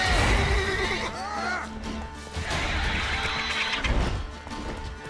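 A horse in the video game The Witcher 3 whinnies loudly and with rising and falling pitch amid loud battle noise, with crashes and shouting over a dense, busy background.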